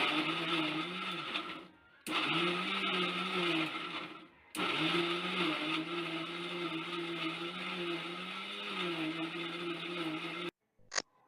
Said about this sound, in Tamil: இப்போ நம்ம மிக்ஸி ஜாரை க்ளோஸ் பண்ணி இதை நல்லா அரைச்சி எடுத்துக்கலாம்.